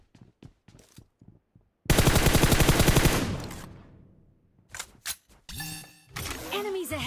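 Sustained automatic gunfire from MK14 and M4 rifles in the PUBG video game, a loud rapid burst after a few scattered shots, followed by more shots and game sounds while people talk.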